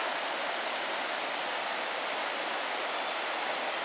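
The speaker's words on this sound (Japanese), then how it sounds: "小さいけど滝が見えます" A continuous, even rush of a small waterfall in a mossy mountain forest on Kamuidake, Hokkaido, steady and fairly close, with no other sounds breaking through.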